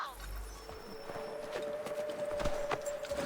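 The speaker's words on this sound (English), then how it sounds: "Take my horse! Bring him here!" Horse hooves clip-clop at a steady walking rhythm in Assassin's Creed III, nearby and moderately loud. Game voices speak over the hoofbeats, with a faint tonal hum beneath.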